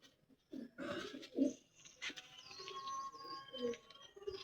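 Pigeon calling near the handler's loft, a few soft throaty coos and chirps spread over quiet, close and somewhat faint.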